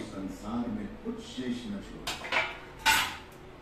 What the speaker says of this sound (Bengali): চলো এবার ঢাকনা খুলে দেখে নি কেমন হয়েছে